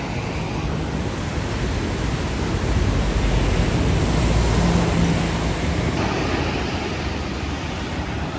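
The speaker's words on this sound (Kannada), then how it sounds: "ಹಾಲು ಉಕ್ಕದಂಗೆ ಹೋಗ್ತಾ ಇದೆ ಸಮುದ್ರ" Sea waves washing steadily along a Sri Lanka coastline, a continuous broad roar of surf with a slight swell in the middle, loud and close, with no voices.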